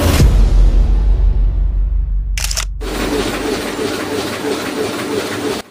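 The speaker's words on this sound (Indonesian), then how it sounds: "Kalau nggak salah, itu kan suara mesin gergaji kayu." Wood sawing machine running in a sawmill, a loud, dense mechanical roar with rattling and rumbling that drops out briefly, then resumes at a steady pace.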